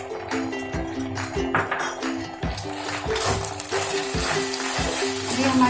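Vegetables stir-fry in a pan for Schezwan noodles, with a continuous sizzle, rhythmic scraping and clinking strokes of the spatula, and frying hiss growing brighter and louder toward the end.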